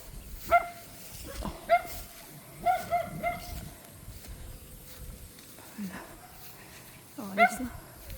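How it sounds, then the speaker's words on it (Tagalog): A dog on a rocky mountain trail in Batangas gives scattered sharp barks and yelps, some in quick pairs, over a background of people talking and outdoor noise. "Kulit ng aso."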